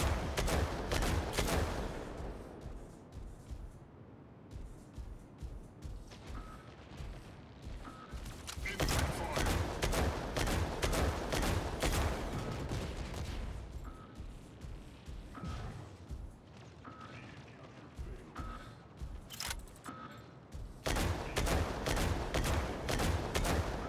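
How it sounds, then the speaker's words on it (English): Gunfire from the mech combat video game Mech Arena, dense bursts of rapid shots and explosive booms running almost continuously and loudly, with a brief lull mid-battle and faint tones beneath. "Incoming fire."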